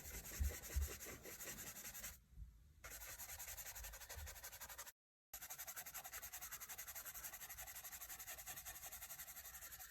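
Charcoal drawing being rubbed to blend values, a continuous soft, dry scrubbing texture that runs steadily with two brief pauses, close and alone without voices.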